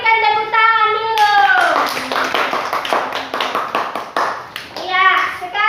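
Students in a classroom clap together for a group's presentation, a loud burst of many handclaps framed by children's voices before and after.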